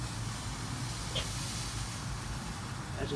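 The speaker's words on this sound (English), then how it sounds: "That's just excess steam" Steam hisses in a steady, low, breathy wash off a freshly quenched steel kukri blade at a blacksmith's forge, faint and continuous for a few seconds.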